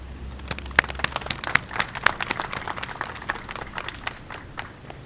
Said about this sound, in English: Can I please get one more round of applause for how far we have come